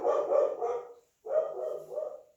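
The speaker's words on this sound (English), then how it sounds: "That will be one of the dogs." A dog barks indoors in two short bursts of several loud, close barks separated by a brief pause.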